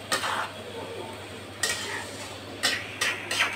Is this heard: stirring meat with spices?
yes